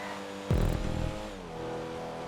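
Comet S2 sports car in a GTA 5 race, its engine jumping into a loud rev burst that fades into a steady drone, heard alone without talk.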